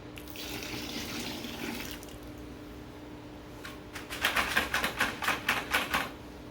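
Water taken from an established planted aquarium is poured into a new planted tank, giving a steady splashing pour that pauses and then returns as a run of rhythmic gurgling bursts, close and fairly loud.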